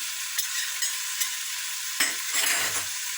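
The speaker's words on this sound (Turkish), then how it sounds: "Ben kırmızı biberimi de ilave ediyorum hemen." Red pepper is tipped into a frying carrot and leek dish and stirred, over a steady close hiss of sizzling oil with a few light clicks and a louder scraping stir near the end.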